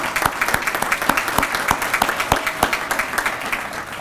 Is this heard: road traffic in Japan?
no